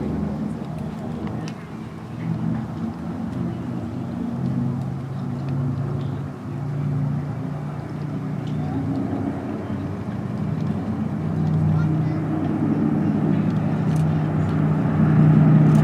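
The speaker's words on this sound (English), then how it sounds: "I think at this point the B-25 is going to pull up and do its solo display" A B-25 warbird bomber's piston engines at an airshow, a steady, broad droning roar that grows gradually louder as the aircraft pulls up for its solo display, heard from a distance with a faint voice occasionally over it.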